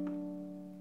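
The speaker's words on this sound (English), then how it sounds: "When you play all four strings, it should sound like this." Four open strings of a baritone ukulele tuned to open D ring together in a single sustained chord, close and steady, fading slowly over about a second with no voice.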